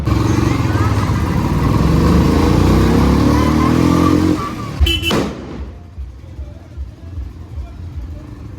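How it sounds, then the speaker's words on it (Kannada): Motorcycles ridden together, among them a Royal Enfield, a KTM and a Yamaha RX, give a loud, steady close engine roar that cuts off abruptly, leaving quieter road noise. "ಬನ್ನಿ ಆ 3 ಬೈಕ್ಸಲ್ಲಿ ರೈಡ್ ಮಾಡೋಣ"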